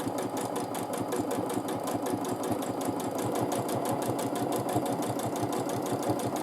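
A sewing machine running continuously during free-motion quilting of back and forth lines, with a fast, even needle rhythm and a steady motor hum, close and alone.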